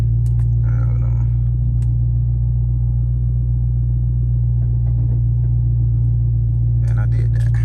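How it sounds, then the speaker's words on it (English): A 2022 Dodge Hellcat Redeye backs slowly off oil-change ramps, its engine holding a loud, steady low idle rumble throughout with brief bursts of nearby talk over it. "And back her up out these ramps."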